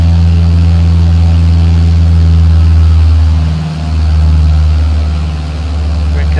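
Aircraft engines in Microsoft Flight Simulator, a steady loud low drone that dips slightly as power is eased back, continuous and close, with no talking.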